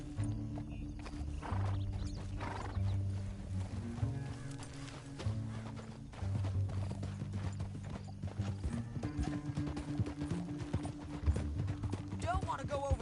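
Horse hooves clip-clop at a gallop in the Red Dead Redemption 2 video game, a steady rhythm under loud game music, with a horse whinnying at moments.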